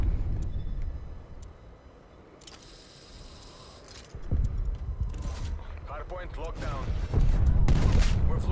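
Loud, dense bursts of hand cannon fire in a video game crack and boom in quick succession, with excited voices shouting over the chaotic battle noise.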